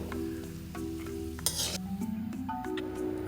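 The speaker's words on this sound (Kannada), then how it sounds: "ಒಂದು ಚಮಚ ತುಪ್ಪ ಹಾಕಿ ಗೋಡಂಬಿಯನ್ನು ಸಣ್ಣ ಉರಿಯಲ್ಲಿ ಕೆಂಪಗಾಗುವವರೆಗೆ ಹುರಿದು ಎತ್ತಿಟ್ಟುಕೊಳ್ಳೋಣ" Cashews sizzling in ghee in a pan over low heat, steady frying with occasional stirring scrapes and a brief louder burst midway, close by with no talking.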